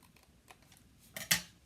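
Scissors cutting paper for a pop-up card make a few soft rustles, then two quick, crisp snips close by in a quiet room.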